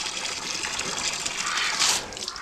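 Water gushes steadily from a hose into a container inside a duck pen on a bitterly cold day, a continuous rushing splash at close range with no talk.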